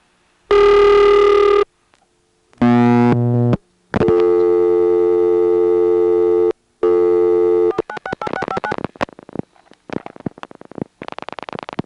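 Telephone vacant level tone on a 1977 step-by-step exchange in Monroe, New York: a series of loud, steady tone bursts with gaps, followed by rapid clicking and switching noise.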